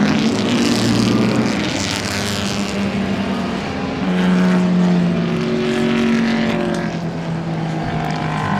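A David Plumstead Racing Lotus historic racing car at the Goodwood Revival, heard as a loud, sustained engine roar passing close by, its pitch shifting as it runs, with no voices.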